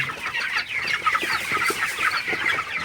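A large, crowded flock of broiler chickens in a shed during intense heat clucks and chatters continuously, a dense overlapping din of many birds close by.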